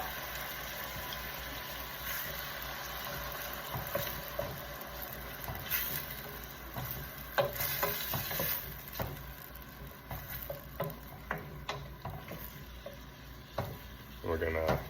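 Diced tomatoes hit a hot pan for a salmon piperade, sizzling steadily with frequent clattering stirs and scrapes of a utensil against the pan throughout, close and moderately loud, with no talking.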